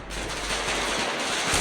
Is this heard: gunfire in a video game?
yes